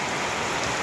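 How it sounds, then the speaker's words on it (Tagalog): Heavy rain pours steadily in a dense, unbroken wash of hiss on a road hit by a landslide, loud and constant throughout with no voices. "nakikita naman po ninyo sa video yan kung gaano kalakas ang ulan"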